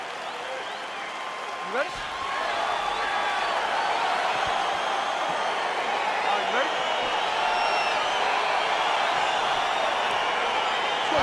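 A virtual arena crowd in the EA Sports UFC 4 video game keeps up a steady, broad roar and cheer as a heavyweight tournament fight gets underway, while an announcer's voice calls out over the noise.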